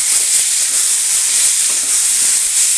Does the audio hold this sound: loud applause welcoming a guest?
no